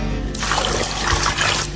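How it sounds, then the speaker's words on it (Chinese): Tap water gushes steadily over chopped pork ribs in a sink, close by, for a short stretch. "全部剁好以后洗上一遍"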